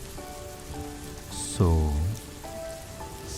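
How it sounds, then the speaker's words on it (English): Soft rain falls steadily on a surface at night, a gentle, even patter throughout, with a calm voice briefly speaking over it and faint tonal notes in the background. "let the soft rhythm of the rain guide you into relaxation"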